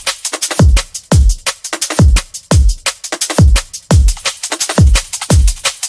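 A liquid drum and bass drum loop plays without its top layer, so heavy kicks and sharp snares pound out a fast, steady pattern with fewer high percussion details, loud and up front.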